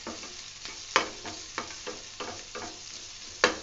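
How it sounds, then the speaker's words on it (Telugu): Black pepper fries in a pan for a sun-dried mutton fry, a gentle hiss under a steady rhythm of stirring scrapes, with a couple of sharper spoon knocks against the pan, close and quiet. "సో అందుగురించి మిరియాలు యాడ్ చేసుకున్నాను. సో బాగా ఫ్రై చేయాలి."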